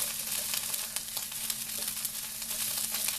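Omurice sizzling in a non-stick pan, a steady bright crackle of frying that holds evenly throughout with no talking.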